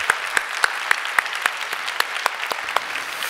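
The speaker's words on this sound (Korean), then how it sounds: "우리 하나님께 감사의 박수 올려드리도록 하겠습니다" Scattered hand claps from a church congregation during a Sunday service, a thin spread of individual claps with sharper louder hits recurring roughly every quarter second, moderately close and without talk.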